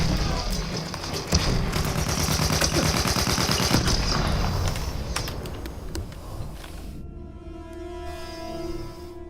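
Dense rapid gunfire and heavy thumping blasts of mortar fire in a Battlefield 1 battle, loud and continuous for most of the stretch before dropping away near the end, with faint voices in the background.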